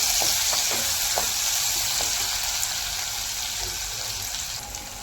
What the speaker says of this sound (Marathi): कांदा चांगला तळून घेऊया आणि त्याच्यासोबत आलू आणि फ्लावर पण तळून घेतलं